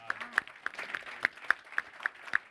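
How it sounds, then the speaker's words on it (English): Audience applause for Gary Carrier at the grand opening of a community access lab, a modest room's worth of scattered claps with a few sharp, louder hand claps standing out, steady and fairly quiet throughout. "can everybody give this man a round of applause"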